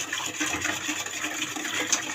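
Salted water rushes steadily into a jar of mixed vegetable pickles, making a continuous, close splashing pour for about two seconds with no voices.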